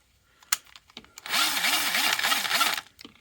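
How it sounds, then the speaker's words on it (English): A small handheld drill whirs at a slow, uneven speed for about a second and a half, its pitch wavering in a repeating rise and fall, with clicks and handling noise around it. "you want a slow drill speed, so you don't want your massive power drill, a little handheld drill like this"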